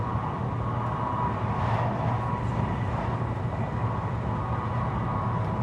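Steady rumbling roar of a fast-moving high-speed sleeper train between Beijing and Hong Kong, a continuous broadband rush with low hum, constant and loud throughout.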